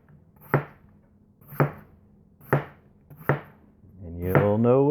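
A knife slices apples toward the core with four evenly spaced crisp chops on a cutting board, close and distinct, followed by a voice speaking.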